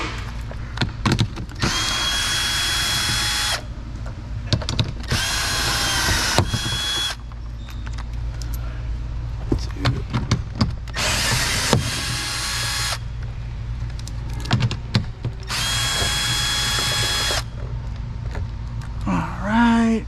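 Power drill removing four 10 mm bolts from a Tesla Model X rear door panel, in repeated loud whirring bursts of a few seconds each, separated by clinks and handling noise.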